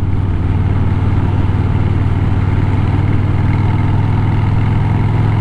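A Royal Enfield Interceptor 650 motorcycle idling close by, a loud, steady low rumble with an even rhythmic throb and no other sounds.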